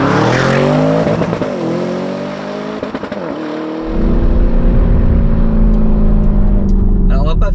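Lamborghini Urus fitted with a full Milltek exhaust revving hard, its rising engine note building into a loud, close roar with pops and crackles on the overrun; a voice talks over part of it.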